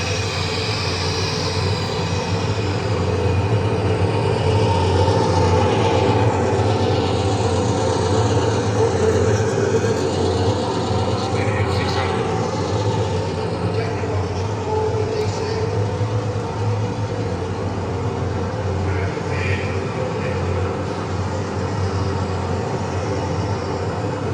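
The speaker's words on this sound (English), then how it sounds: "Engine turning over. Engine down to speed." A steady, loud mechanical drone of a large engine running continuously at a coastal gun battery, deep low rumble with constant hiss, no pauses throughout.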